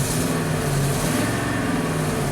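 Ford truck engine running with an exhaust leak, revving briefly in a steady, rough mid-pitched drone with a throaty low rumble and no voices.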